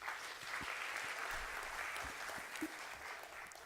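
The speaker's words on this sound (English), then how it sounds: "A round of applause, please." Conference audience applause, a sustained ripple of many hands clapping at moderate distance, steady and unbroken for several seconds.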